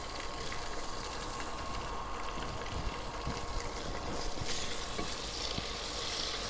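Dried fish (shutki) crackles in hot oil in a pan, a dense continuous sizzle with faint scraping, close up and without talk.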